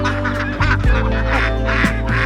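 Khaki Campbell ducks at a farm call out close by in a flurry of loud, nasal honking quacks, several overlapping calls in quick succession.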